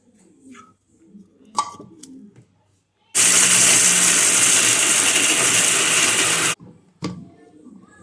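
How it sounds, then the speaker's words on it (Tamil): A mixer grinder whirs loudly at full speed for about three seconds, grinding ingredients for a hair-growth laddu, then stops abruptly, with quiet handling sounds and a bird cooing before and after. "அடுத்தது நம்ம மீதம் இருக்க எல்லாத்தையும் ஒன்றா போட்டு நம்ம அரைச்சி எடுத்துக்கிடுவோம்"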